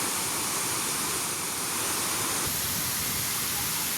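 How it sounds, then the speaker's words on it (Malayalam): Aruvikkachal waterfall in Kottayam pours with a steady, close, full roar of falling water that continues unbroken, with no voices over it. "അങ്ങനെ ഞങ്ങൾ വെള്ളച്ചാട്ടത്തിനടുത്തെത്തി"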